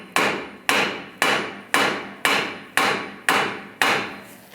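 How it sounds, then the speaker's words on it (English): Eight sharp metallic hammer taps seat a strut and spring assembly on a Volkswagen Beetle, landing at an even, unhurried pace, each ringing briefly before the next, close by with no voices. "You can tap it a little more with a hammer."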